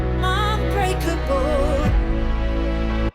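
Two sustained chords from a song in the musical SIX, the 5 chord giving way to the 4 chord, ring out as a dense, loud harmonic wash with a vocal-like melody, swelling and then shifting to a new chord halfway through before cutting off.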